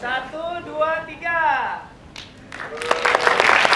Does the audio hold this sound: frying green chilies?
no